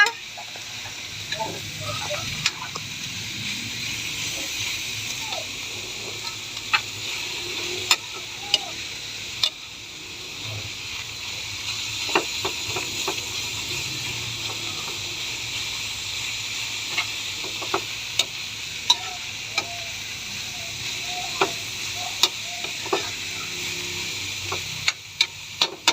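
Banana blossom sautéing in a pan gives off a steady low sizzle for the whole stretch, broken by scattered clicks and taps of a utensil stirring against the pan, with faint background voices now and then.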